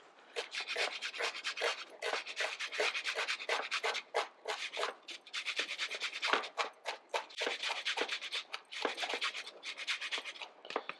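Lemon zest is grated by hand in a home kitchen, with quick, close rasping strokes repeating in a brisk, uneven rhythm and short pauses between bursts.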